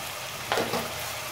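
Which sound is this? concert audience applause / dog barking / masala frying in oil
masala frying in oil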